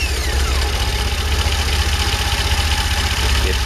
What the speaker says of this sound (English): If the engine starts, obviously the starter motor and the battery are fine.